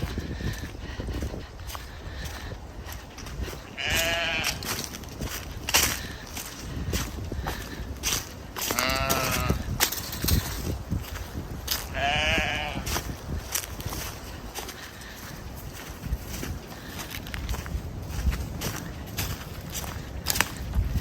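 Sheep bleating on a farm, three or four clear calls spaced through the stretch over outdoor rustling and footsteps, moderately near.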